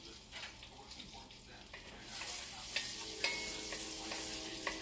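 A medium garlic clove dropped into melted butter and oil starts frying, the sizzle jumping louder halfway through and holding as a steady close hiss with light clicks and pops.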